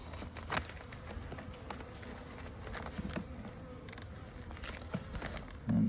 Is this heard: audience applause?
no